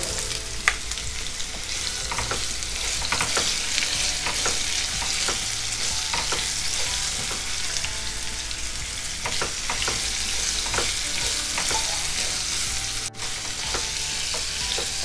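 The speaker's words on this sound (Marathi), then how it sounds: "कैरी 1-2 मिनिटं आपण परतवून घ्यायची आहे।" Raw mango pieces sauté in oil with asafoetida for a mango pickle, giving a continuous close sizzle with steady light clicks and scrapes from stirring throughout.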